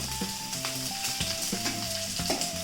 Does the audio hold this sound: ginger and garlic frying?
yes